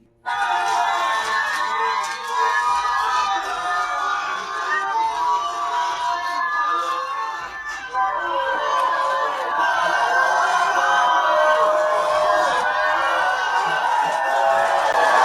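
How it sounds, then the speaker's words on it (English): A large outdoor crowd cheers and shouts continuously for Burkina Faso president Ibrahim Traore, with excited voices and chatter blending into a steady, loud roar. "Look how people are happy. You see how they're cheering."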